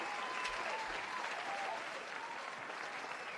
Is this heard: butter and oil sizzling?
no